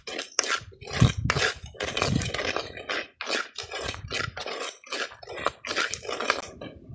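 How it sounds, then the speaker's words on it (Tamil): Rice is dry-roasted in a pan and stirred vigorously, giving rapid, repeated scraping and rattling bursts of grains against metal, close and busy throughout. "இப்போ நம்ம அதை எடுத்துகிட்டு அரிசி கொஞ்சம் வறுக்கணும்."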